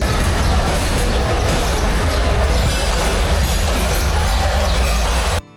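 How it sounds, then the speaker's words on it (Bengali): A passenger train running at speed through tea gardens on the Dhaka to Sreemangal line, a steady loud rumble of wheels and carriage noise throughout, cutting off abruptly near the end. "চা বাগানের মাছ দিয়ে দূরত্ব গতিতে ট্রেন চলছে"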